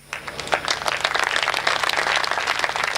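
A crowd at a Hindi poetry recital (kavi sammelan) breaks into steady, dense applause, loud and sustained for the full few seconds, with no one speaking over it.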